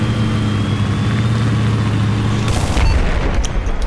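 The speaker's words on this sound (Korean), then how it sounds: "폭발했어" A booming explosion from the Battlefield 4 multiplayer shooter breaks over a steady roar of game noise and engine rumble, a single heavy blast landing about two-thirds of the way through.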